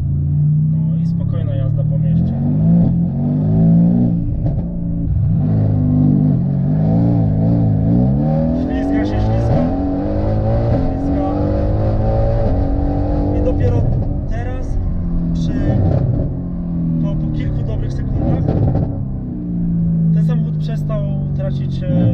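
A Mercedes-AMG GT R sports car engine revving and accelerating through repeated gear-by-gear pitch sweeps, loud and close from inside the cabin, with someone talking over it.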